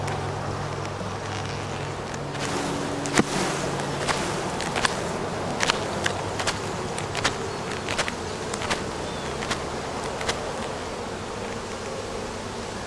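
Honeybees buzz in a dense, steady drone while they are shaken off a hive frame during a swarm and nuc inspection. A few sharp clicks and taps sound over the constant hum.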